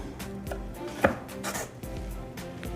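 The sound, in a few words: knife cutting black bean brownies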